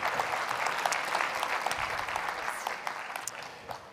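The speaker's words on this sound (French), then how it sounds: "Merci de l'applaudir." Audience applause greeting Marie-Ange Debon, head of Keolis, as keynote speaker at the AMRAE 2022 conference, a dense sustained clatter of many hands at steady volume for several seconds with no talking.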